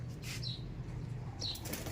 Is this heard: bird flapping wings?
yes